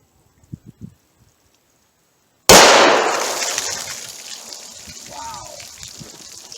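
A single loud, sharp gunshot from a .357 Magnum revolver firing a Critical Defense round bursts out after a quiet stretch, then rings and decays for several seconds; a few faint knocks precede it.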